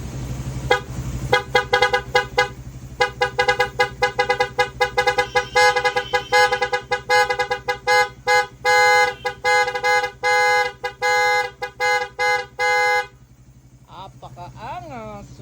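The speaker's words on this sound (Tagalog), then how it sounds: "rapid horn yung number 10" A car horn in rapid horn mode on a 12-horn multi-tone setup, many quick loud honks in fast stuttering bursts, growing denser toward the end before a brief pause.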